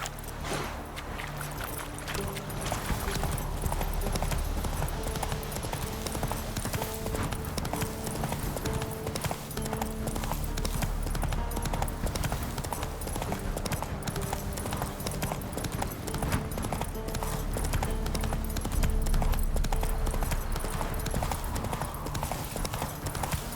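The horse in The Witcher 3: Wild Hunt on PS5 gallops in continuous rapid hoofbeats, loud and steady throughout, with game ambience beneath.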